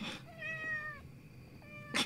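A person imitates a cat's meow: two long, clear, tonal meow-like cries, close to the microphone, with a short pause between them and a brief noisy burst at each end.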